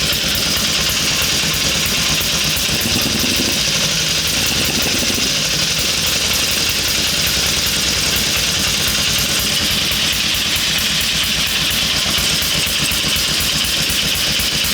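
Vintage Elk motorcycle engine running steadily after a cold start with the choke off, a continuous close idle with an even mechanical buzz and no voices.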